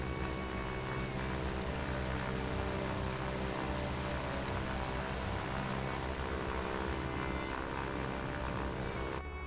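Cessna light aircraft in the Plane X flight game, flying from Seattle to KBFI, its propeller engine giving a constant, unbroken droning hum for the whole stretch, with no speech.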